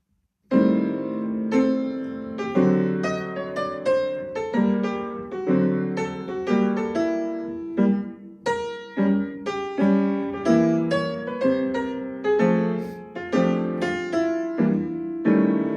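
Solo jazz piano playing a tune, with rhythmic chords and melody moving continuously for about fifteen seconds, clear and close, no talking.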